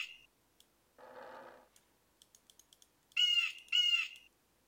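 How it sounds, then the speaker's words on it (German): A bird in the puzzle video game Windosill gives two loud, close caws near the end, after softer clicks and a brief muffled sound, with no talk over it. "Ein Vogel."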